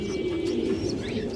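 Pigeons coo at a farm where birds are sold, giving a low, steady murmur with faint chirps above it.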